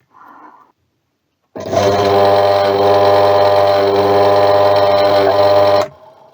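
A broken washing machine motor whirs loudly and steadily for about four seconds with a rough, buzzing hum, then cuts off abruptly.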